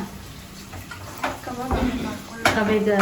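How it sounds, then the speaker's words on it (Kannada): Onions frying in a pan over a high flame, with a soft sizzle, scraping stirs and light clatter of utensils, while a person talks nearby. "ಉರಿ ಜಾಸ್ತಿ ಮಾಡು. ಅದು ಚೆನ್ನಾಗಿ ಈರುಳ್ಳಿ ಕೆಂಪಗಾಗಲಿ."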